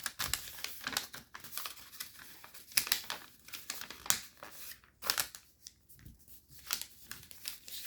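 Paper crinkles and rustles softly in close, irregular bursts as it is folded and inside reverse folded, with quiet creasing taps between them.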